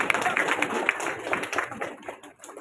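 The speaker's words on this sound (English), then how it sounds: "Please give her a big round of applause." An audience claps for a grade 2 spelling bee winner at a school felicitation ceremony, with a short burst of scattered, fairly quiet hand claps that tails off within a few seconds.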